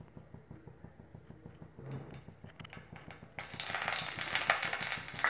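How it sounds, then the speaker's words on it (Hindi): Oil heating in a hot pan for Punjabi rajma masala: a faint, low crackle at first, swelling into a steady, brighter sizzle that grows louder over the last couple of seconds. "जैसे ही हमारा पैन गरम हो जाएगा, हम इसमें तेल डालेंगे।"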